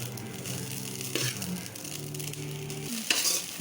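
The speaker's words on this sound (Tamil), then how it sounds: "சாதத்தை போட்டு அதிலே கிளறிக்கணும்." Cooked rice being stirred in a pan over a low flame, a soft sizzle with scraping and shuffling of the spatula and low hum beneath, quiet and close.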